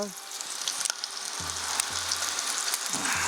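Green chili frying in hot oil in a ladle, a steady close sizzle under a high flame, with a few soft clinks as more chili drops in.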